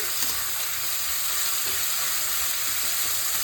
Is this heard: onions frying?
yes